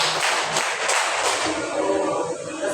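A classroom of pupils claps in unison during a lesson, several evenly spaced claps in quick rhythm, fairly loud and close, with roomy background noise.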